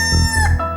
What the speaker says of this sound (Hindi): मुर्गा जब बांग देता है तो सवेरा होता है